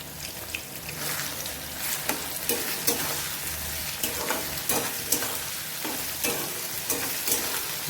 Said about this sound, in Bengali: পেঁয়াজটা খুব ভালো করে ভেজে নেব